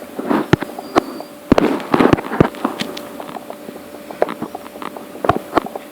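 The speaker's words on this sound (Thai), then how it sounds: "ยังจะจุดพลุเล่นกันปังปังปัง" Fireworks bursting in the video game Minecraft, a run of sharp bangs and crackles, some close and loud, others fainter, over a faint steady tone.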